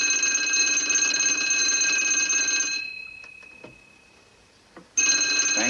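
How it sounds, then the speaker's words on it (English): An old-style telephone rings loudly with a continuous metallic electric bell, stops for about two seconds with a few faint clicks, then starts ringing again. "I don't believe that was Kaltenbrunner on the phone at all."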